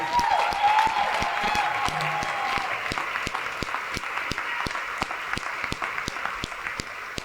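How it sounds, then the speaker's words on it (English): Audience applauding for the mayor at a community family meeting, a steady wash of clapping with sharp, evenly spaced claps standing out, fairly loud and continuous throughout with a faint voice briefly underneath. "Let's give our brother a warm round of applause"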